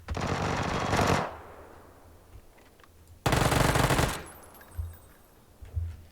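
A Vector submachine gun fires in the video game PUBG in two loud, rapid bursts of roughly a second each, separated by a short pause, with fainter thumps afterward.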